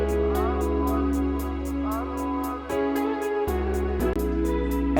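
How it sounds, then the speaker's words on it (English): Two offset four-step hi-hat patterns tick in a steady, even stream across a 2000s-style R&B beat, with bass and melodic parts underneath; the crisp hats repeat loudly and continuously with a brief dropout near the middle. "And so before I add anything, I added two hi-hats."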